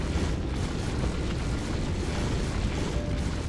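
Rocket boots fire and launch a character into the air in World of Warcraft, a steady, loud whooshing roar of thrust that holds for several seconds without talk.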